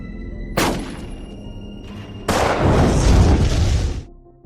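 An explosion in a zombie film: a sharp blast, a short rumbling tail, then a second, bigger and longer roaring burst that dies away abruptly.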